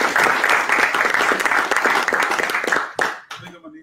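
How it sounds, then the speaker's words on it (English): Loud applause from an audience at a startup pitch event, dense clapping close by that breaks off abruptly near the end, leaving a few scattered claps and a brief voice. "Let's give him a round of applause one more time"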